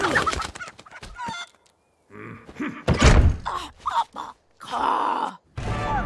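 Animated chicken clucks and squawks in a Lego Ninjago short, mixed with thunks and groaning sounds in irregular bursts separated by brief silences, close and clear.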